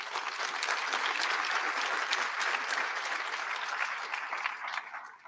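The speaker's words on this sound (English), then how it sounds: "Let's give him a round of applause." Sustained applause from an audience at a spring commencement ceremony, a dense, even clapping that holds steady for several seconds and gradually thins out.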